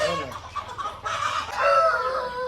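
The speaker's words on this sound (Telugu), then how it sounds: "అన్న ఈ పుంజు గురించి చెప్పండి" A rooster gives a run of throaty clucks and short calls close by, loud and irregular across a couple of seconds.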